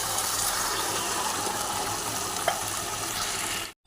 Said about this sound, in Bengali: এবার আমি এর মধ্যে জল ঢেলে